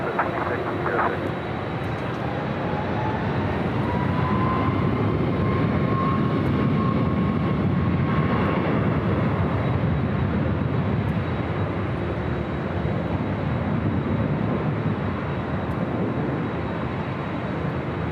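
A Delta airliner taking off from runway 24 left at Los Angeles International gives a loud, sustained roar of jet engines with a rising whine. The noise carries over its whole length, with faint radio-like voices in the background.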